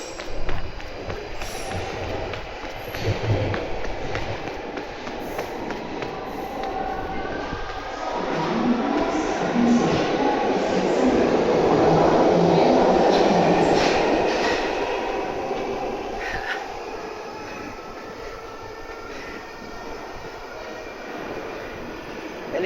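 A London Underground Victoria line train pulls into the platform, its broad rumbling roar swelling to a loud peak midway and then easing off as it slows, with steady tunnel and station noise continuing throughout.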